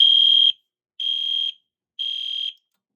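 An EST iO-64 fire alarm panel sounding three loud, steady electronic tones, each about half a second long, pulsing once per second with silence between.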